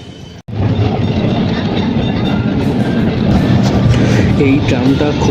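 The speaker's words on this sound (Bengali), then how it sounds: "এই ট্রামটা খুব ধীরে চলে" An old Kolkata tram runs on its rails with a steady, loud rolling rumble and rattle of wheels and carriage throughout, and faint voices mixed into the noise.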